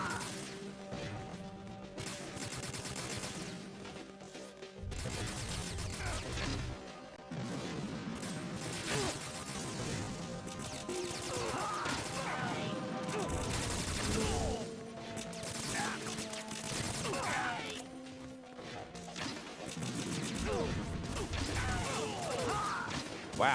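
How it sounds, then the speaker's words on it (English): Grenades go off in a retro video game, with repeated crashing blasts over a dense bed of continuous game music and effects, and a voice speaking briefly. "Wow, I suck at hitting guys with grenades."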